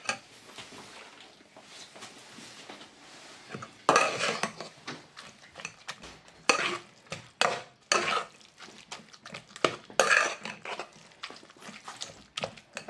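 Roasted brinjal is mixed with oil using a spoon, making irregular bursts of scraping and clinking against a metal vessel with quiet pauses between strokes.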